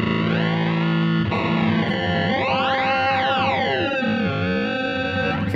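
A heavily distorted, fuzzy synth drone through a Psychotic Fuzz pedal with a WMD Geiger Counter sample rate effect, gritty and bit-crushed, its pitch sweeping up and back down in a dense, continuous wall of sound.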